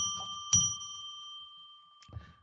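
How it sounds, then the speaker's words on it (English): A small bell is struck three times to open a tarot reading on a live psychic radio broadcast, each strike a clear ringing tone with a long, steady sustain, the strikes unevenly spaced and heard alone without talk. "So I'm going to now ring a bell 3 times to declare a sacred space"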